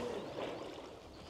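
Soft, continuous water sloshing and lapping close by at a canal lock, a steady low wash with no voices.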